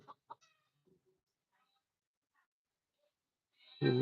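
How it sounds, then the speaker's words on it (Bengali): Desi chickens at home give a few short, faint clucks, then a quiet stretch, ending in a louder burst of noise close by. "দেশি মুরগি"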